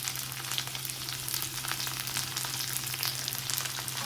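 Tomato and tamarind sautéing with onion in a hot pan give a steady, close sizzle with fine crackling over a low constant hum.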